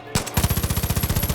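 Rapid automatic gunfire from the video game Far Cry 5: a steady stream of evenly spaced shots after a short burst, close and loud, with no talking.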